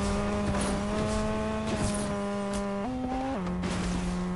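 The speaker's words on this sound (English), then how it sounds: "Hear the car? Sounds like shit" Car engine driving in Fortnite, a steady buzzy in-game motor tone holding pitch, briefly stepping up then back down as it revs, loud and close.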